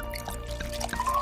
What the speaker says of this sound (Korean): 물질을 플라스크에 부드럽게 붓고.